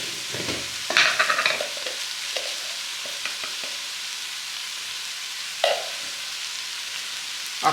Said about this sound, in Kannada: ಇವಾಗ ಇದನ್ನು ಚೆನ್ನಾಗಿ ಮಿಕ್ಸ್ ಮಾಡ್ತಾ ಇದ್ದೀನಿ.